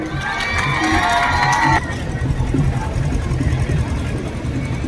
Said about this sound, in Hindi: ताली बजाओ, शाबाश सारे।